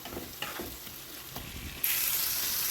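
Ginger fries with turmeric and salt in a pan, a soft sizzle with a few light stirring scrapes, then a sudden louder hiss that holds steady to the end.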